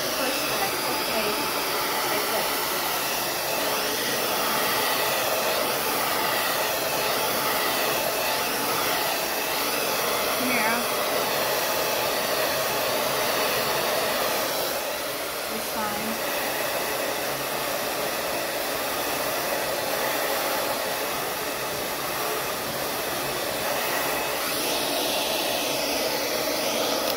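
A hair dryer blow-drying curly hair roars continuously for the whole stretch, a loud, close, steady airy whine that shifts slightly in tone as it is moved.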